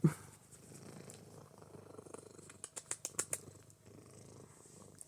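A cat purrs softly and close by, a low rumbling that runs throughout, with a sharp tap at the start and a run of quick clicks or scratches near the middle.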